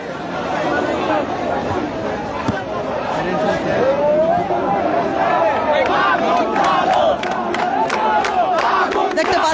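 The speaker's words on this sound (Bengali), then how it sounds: "সচিবালয়ের সামনের সড়কে শিক্ষার্থীরা বসে পড়ে স্লোগান দিচ্ছেন" Students sitting on the road in front of the Secretariat chant slogans at a street protest. A large crowd's loud rhythmic chanting and shouting continues throughout, mixed with general hubbub and noise.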